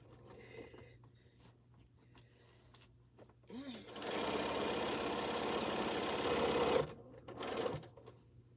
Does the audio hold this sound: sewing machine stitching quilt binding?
yes